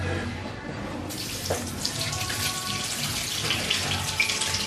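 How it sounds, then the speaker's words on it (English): Tap water runs steadily into a sink as potatoes are rinsed, a continuous close splashing wash with a brighter surge after the first second. "you're going to wash the potato again"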